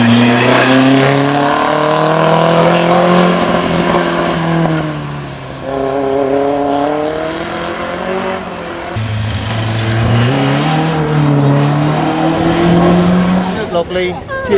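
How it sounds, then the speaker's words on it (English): A TVR Vixen S4 race car climbs the Loton Park hillclimb course, its loud engine note rising and falling through gear changes as it revs hard and passes close by. "First to TVR is the Vixen S4 of Stuart Lobley."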